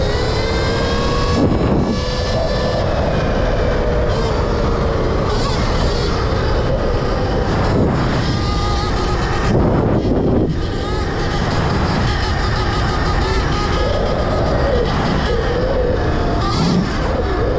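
A 2025 Surron Ultra Bee electric dirt bike being ridden, its loud motor whine rising and falling steadily under heavy rushing wind noise throughout.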